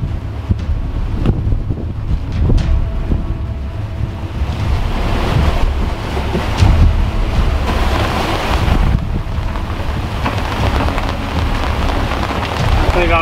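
Heavy rain pours onto a sailboat crossing the Atlantic in winds of at least 20 knots. The rain roars steadily with gusts of wind and wash from the sea, and a few faint voices sit underneath.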